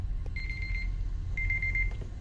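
An alarm clock rings in the Kingdom Hearts video game, two bursts of steady high electronic beeping separated by a short pause, clear over a low background rumble with no talk.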